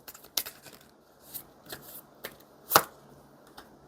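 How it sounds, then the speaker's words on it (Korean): A tarot card is drawn from the deck, making a few quiet papery slides and flicks, with a sharper snap near the end, close and isolated against near silence. "그럼 마지막으로 조언 카드 한 장 뽑아볼게요"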